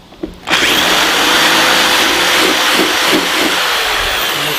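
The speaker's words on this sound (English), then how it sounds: "I'm going to drill it." A power drill with a 5/16 inch bit bores a hole for a Casita RV sewer hose storage mount, whirring loud and close in one sustained run after a few handling knocks.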